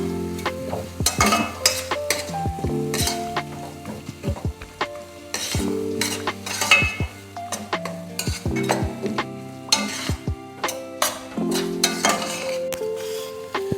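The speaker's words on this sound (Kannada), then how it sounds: "ಈಗ ಕರಿಬೇವಿನ ಸೊಪ್ಪನ್ನು ಹಾಕೋಬೇಕು." Curry leaves crackle in hot oil for a chitranna rice dish as a spoon stirs and clinks against the pan, a busy close-up mix of sizzling and metallic taps, with no one speaking.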